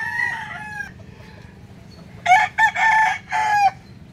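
Roosters, gamecocks among them, crowing on a rural provincial farm at dawn: one crow trails off early, then a loud, close, repeated series of crows bursts out near the end over a quiet background.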